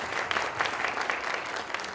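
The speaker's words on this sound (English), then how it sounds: "I want to give a round of applause for our panel for doing such a great job today." A conference audience applauds a panel with a steady, dense patter of clapping throughout, close and fairly loud, with no voices standing out.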